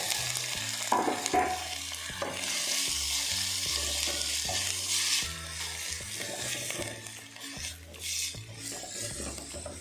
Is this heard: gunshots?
no